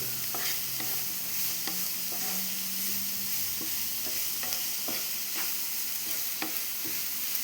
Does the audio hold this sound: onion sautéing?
yes